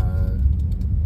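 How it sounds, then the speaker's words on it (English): A Honda CR-V engine, running on fresh Pennzoil oil and nearly warmed up on a winter drive at about minus 1 to minus 3 °C, makes a steady low rumbling hum inside the cabin with no talk. "It's almost fully warmed up now, and you can hear the engine sounds a little bit"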